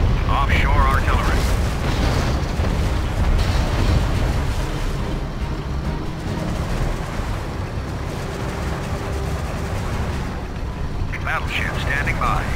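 An offshore artillery bombardment from a battleship in Command & Conquer Generals Zero Hour, a continuous rumbling roar of heavy blasts under a voice. The booms are loud, dense and sustained throughout.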